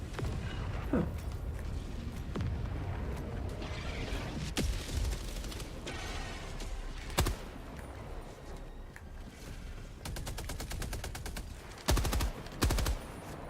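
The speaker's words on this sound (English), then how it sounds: "When in doubt, send in very large airstrike type thing." Helldivers 2 battle with airstrike explosions and gunfire: sharp heavy blasts scattered through continuous bursts of automatic fire, ending in a rapid stuttering volley and two big booms near the end.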